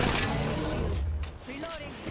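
Gunfire in Apex Legends, a quick flurry of rapid shots and bursts over about two seconds, fairly loud, mixed with in-game voice chatter.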